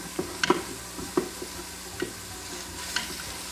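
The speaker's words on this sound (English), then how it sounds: "Let those sweat for another minute or so." Onions sweating in a pot of a chicken pozole cooked in an Instant Pot, with a few scattered stirring scrapes and soft knocks over a quiet, faint background.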